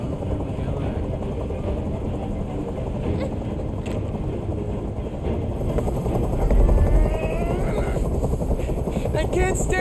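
Helicopter rotor chop and engine rumble in the video game Detroit: Become Human fill the scene, swelling louder midway, with a voice talking over the noise.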